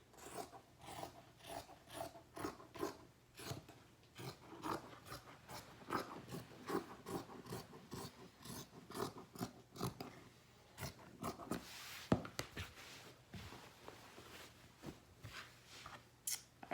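Scissors cutting fabric for a qaspeq zipper, a quiet, close, regular series of crisp snipping and rasping strokes that continues throughout.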